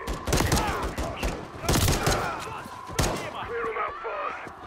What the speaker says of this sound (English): I hear shots from over here.